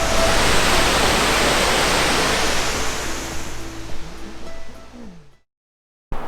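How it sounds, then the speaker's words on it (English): A misty waterfall roars as a loud, dense, steady rush of falling water that gradually thins and fades out, followed by a brief silence. "And we've got this beautiful waterfall with lovely mist."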